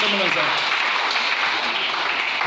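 Church congregation clapping and cheering together, a dense, steady wash of applause with some voices mixed in, loud and sustained throughout.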